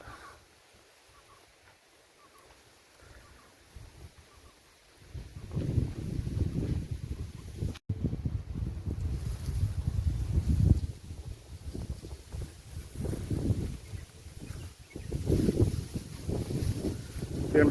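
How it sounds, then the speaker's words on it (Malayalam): Gentle wind blowing across an open grassy hilltop in Idukki, Kerala, where some of the grass has been burnt. The recording is quiet at first, then low steady gusts rumble against the microphone for the rest of the clip. "ഇതിങ്ങനെ എപ്പോഴും ഇവിടെ ഇങ്ങനെ കാറ്റ് വന്നുകൊണ്ടിരിക്കും"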